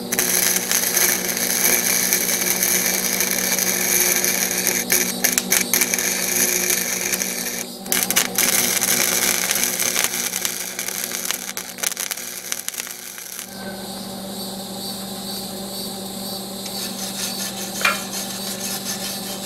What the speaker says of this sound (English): I can weld. But I'm not welding a pipeline.